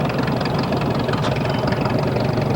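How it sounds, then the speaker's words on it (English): A 1957 Minneapolis-Moline MM5 Star tractor engine runs steadily at a threshermen's show, a loud, close, continuous low rumble with a knocking idle rhythm and no talk. "Here's a 57 MM5 Star. That was a popular tractor too."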